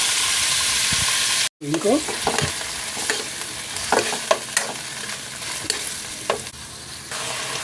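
Ground meat for a fresh lumpia filling sizzles loudly in a pan with repeated scraping stir strokes. The sound cuts out briefly near the start, then continues, and a voice speaks a few words at one point.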